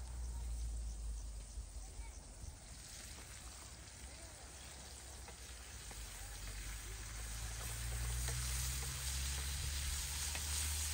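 Peppers and potatoes fry in a pan over an outdoor wood fire, giving a steady soft sizzle that swells slightly toward the end, with a low rumble beneath and people talking at times.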